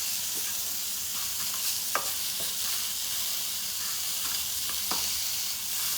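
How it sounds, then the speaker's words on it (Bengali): Date jaggery mixed with coconut is stirred in a hot pan to make a sweet filling, a soft continuous sizzle with scattered scraping clicks of the spoon against the pan, close and moderately quiet. "ওর মধ্যে দিলাম খেজুরের গুড়, নাড়াচাড়া করে একটা পুর তৈরি করে নিতে হবে"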